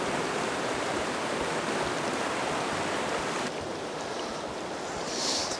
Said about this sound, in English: Plenty of water flowing through here.